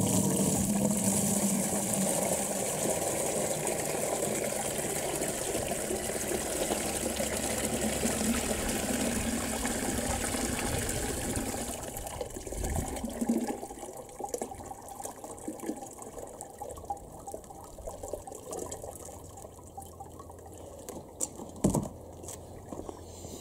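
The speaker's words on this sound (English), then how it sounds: "I'm going to strain it out in this bucket." Liquid carrying rice bran pours through a screen into a bucket during deer hide tanning, a steady splashing stream that tapers after about twelve seconds into sparse drips and trickles.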